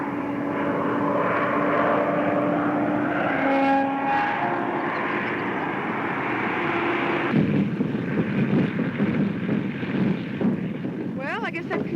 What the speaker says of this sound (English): That boy sure can handle a plane.